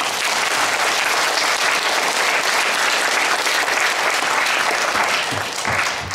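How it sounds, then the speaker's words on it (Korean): A large crowd at a community sharing festival in Hongseong, South Korea, gives loud, sustained applause, a thick wash of clapping that carries on without pause for several seconds. "다시 한번 박수 한번 보내주세요"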